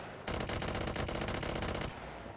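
A virtual full-auto gun in Hot Dogs, Horseshoes & Hand Grenades fires one loud, rapid, continuous burst of evenly spaced shots for about a second and a half, with no talking.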